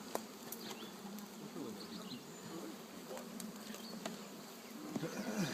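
Honey bees buzz steadily around an opened hive, a continuous droning hum of many insects close by with faint background sounds and no clear speech.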